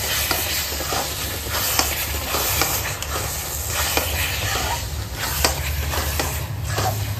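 Chicken pieces being stirred constantly in a hot pan with no water, for chicken lollipop; a steady close sizzle and fry hiss with scraping stirs throughout, no talking.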